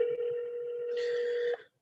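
Outgoing telephone call tone, a steady electronic tone with a brief click partway through and a higher chirp near the end before it cuts off, faint and alone.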